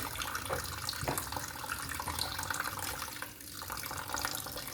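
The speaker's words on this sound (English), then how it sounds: "let me rinse it off first and get rid of these bones so we can begin washing the meat" Tap water runs steadily into a sink while raw beef shank is rinsed, giving a continuous splashing hiss with small shifts as the flow hits the meat.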